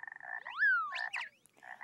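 Cartoon frog croaks in a children's math lesson, rendered as bright, gliding chirps with a rising sweep and a quick stuttering pulse, alone and fairly close.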